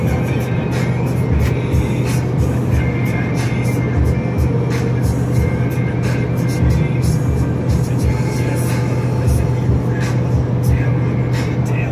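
A Ford F150 SuperCrew pickup's engine cruises at about 1800-1900 RPM and 70 mph on a highway near Reno, heard from inside the cab as a steady, continuous low drone with road rumble.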